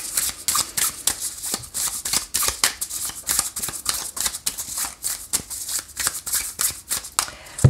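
Tarot cards are shuffled by hand in a quick, irregular series of crisp riffling bursts and soft slaps, close and clear, with no voice over them.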